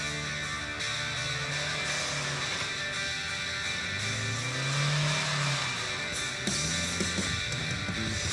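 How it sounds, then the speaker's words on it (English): A Willys truck with a short wheelbase and plenty of horsepower climbing a hill at an off-road truck competition, its engine revving and rising in pitch with tires spinning, heard continuously at moderate distance under broad noise. "Bill Shea's Willys did exceptionally well on the hill climb, using a short wheelbase with plenty of horsepower to keep his tires spinning"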